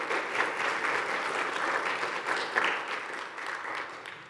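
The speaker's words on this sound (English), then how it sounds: "Can we give her a round of applause for that, Miss Joyce Cummins?" A church congregation applauds together, a steady, full round of clapping that holds at even loudness throughout with no voices on top.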